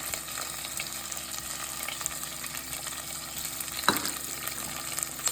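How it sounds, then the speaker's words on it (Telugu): Onion, green chilli and curry leaves fry in hot oil for lemon rice, giving a steady, close sizzle throughout with a brief clink or stir partway through and no talking. "ఆనియన్ వేస్తున్నాను, పచ్చిమిర్చి వేస్తున్నాను, కరివేపాకు,"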